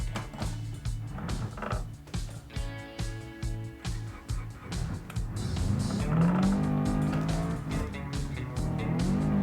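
A car drives on a flat tire in a video game, with a rhythmic bumping thud repeating under a low engine drone that swells and revs louder toward the end, with no talk.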